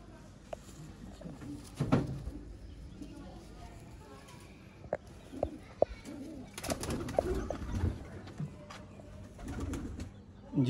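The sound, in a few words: Teddy pigeon cooing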